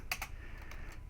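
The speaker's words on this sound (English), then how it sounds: "typing a function out in quotations" A few quick, quiet keystrokes on a computer keyboard while code is being typed, two crisp clicks close together followed by fainter taps, over a low background hum with no talking.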